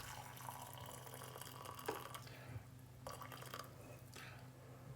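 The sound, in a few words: pouring potato cooking water into a container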